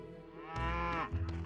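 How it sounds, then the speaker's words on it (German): Cattle in the farming video game Potion Permit give one drawn-out, rising moo that is close and clear, followed by a brief second low call. "Oh, Kühe."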